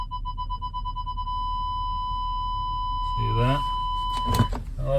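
Forward parking sensor warning in a 2022 Volkswagen Atlas SE V6: a steady high-pitched electronic tone sounds continuously inside the cabin under engine hum, then someone speaks nearby as it ends.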